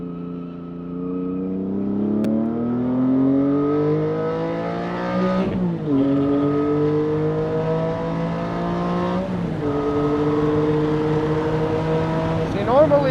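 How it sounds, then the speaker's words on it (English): Porsche 718 GT4 flat-six engine on track, loud and close from inside the car, rising through the gears with repeated climbing pitch sweeps and shift breaks, under steady wind rush. "you'll have to ignore some of this wind and engine noise"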